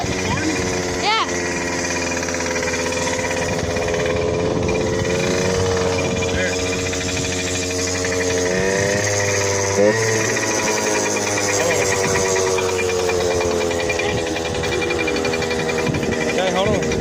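Dirt bike engine idling close by, a steady throbbing drone with a slight lift in revs partway through, and a voice briefly heard over it.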